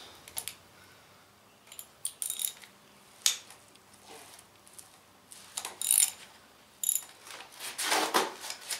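A ratchet loosens connecting rod bolts on a Chevy small block 305 engine, giving quiet irregular clicks and metallic taps close by, in short bursts with pauses and no speech.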